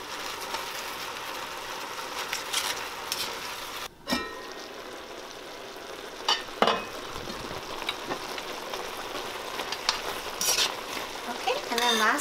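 Bok choy and bean sprouts stir-frying in a pan for low-oil chow mein, a steady sizzle with occasional stirring clatter and scrapes throughout.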